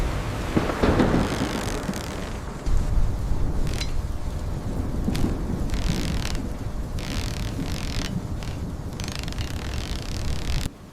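Steady rain and gusting wind roar throughout, with low rumbles of thunder rolling in the background.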